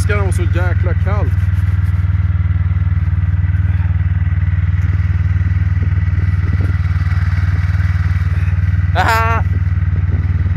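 A scooter's engine drones loudly and steadily throughout the ride in cold weather, a constant low hum with wind noise, while people talk briefly near the start and again near the end.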